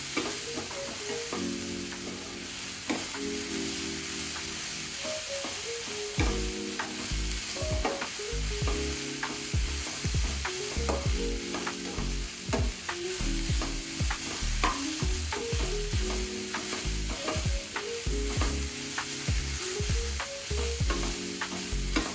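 Semolina roasting in a pan for Maddur vada, stirred continuously with a spoon. The scraping strokes are steady and rhythmic over a constant sizzling hiss, close and alone with no voices.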